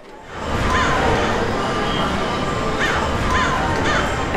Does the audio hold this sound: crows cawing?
yes